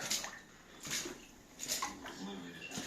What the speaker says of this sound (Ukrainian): Коли вода стоїть отут, це десь 6-10 відер води. Я вичорпую.